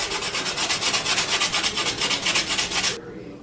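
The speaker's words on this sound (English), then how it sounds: "okay, well, I got everything sanded." Sandpaper is rubbed over a painted wall sconce craft piece in rapid, even back-and-forth strokes, a close, raspy hiss that keeps a steady rhythm for about three seconds, then stops abruptly, leaving near quiet.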